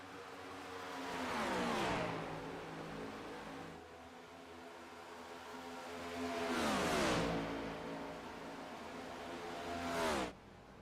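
Race cars at Michigan circling the track in a late-race battle for the lead, engines swelling loudly as each pack roars past and fades, with pitch sweeping down on each pass, three passes in all.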